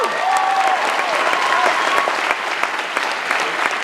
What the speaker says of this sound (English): sarcastic applause